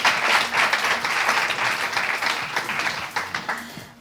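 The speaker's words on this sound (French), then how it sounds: "On applaudit mes deux jokers" A studio audience claps for two guest jokers on a French variety show, a dense, steady round of applause filling the whole stretch at close range, tapering only slightly toward the end.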